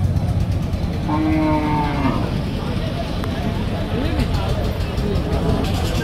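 A native-breed cow gives one long, drawn-out moo at a busy rural cattle market before Eid, rising over a constant babble of crowd voices and nearby traffic.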